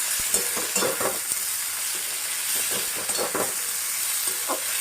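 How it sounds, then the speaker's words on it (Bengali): Diced onion, capsicum and chillies fry on a high flame with a dense, loud, continuous sizzle, broken by frequent spatula scrapes and stirring knocks. "এবার আমি এই ডুমো করে কেটে রাখা পেঁয়াজ, ক্যাপসিকাম আর লঙ্কাগুলো দিয়ে দিলাম। এই টোটালটা আমি হাই ফ্লেমে করছি।"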